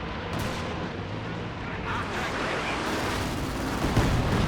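Nebelwerfer rocket artillery fires and lands in a Company of Heroes 2 battle, a dense rumbling barrage of booms and explosions rolling on without pause, with muffled voices mixed in beneath it.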